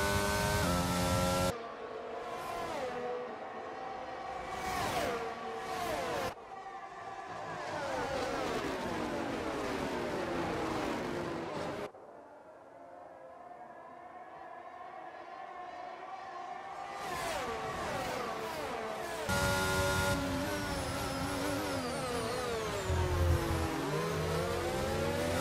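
An F1 car engine in the racing game F1 22 screams continuously, its pitch sweeping up and down through gear changes with a brief drop under braking, loud and steady throughout.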